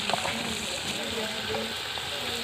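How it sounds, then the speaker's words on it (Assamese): Meat frying in a pan, a steady sizzling hiss with faint stirring scrapes, heard up close and alone throughout. "এতিয়া ভাজি আছে, আপোনালোকে দেখিব পাৰিছে"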